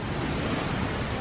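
Large ocean waves breaking on the beach at Cocoa Beach, Florida, a loud steady roar of surf mixed with wind noise, no voices over it.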